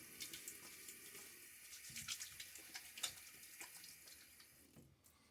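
Water splashed onto the face during a wet shave with a Timeless SS .68 open-comb razor, heard as close, continuous watery splashing and trickling with soft irregular slaps, no voices.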